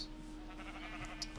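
Sheep bleating at a black sheep farm in a block-building survival game, soft and somewhat distant over a steady ambient hum.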